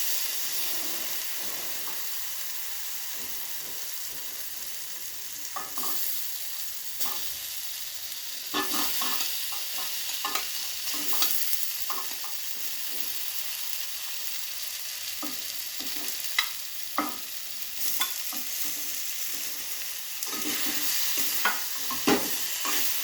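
Potato and eggplant chunks stir-fried in hot oil with a cooked-down spice paste, ahead of a tengra fish curry: a steady sizzle and hiss runs throughout, broken by repeated scraping and clattering strokes of a spatula in the pan, close and with no voices.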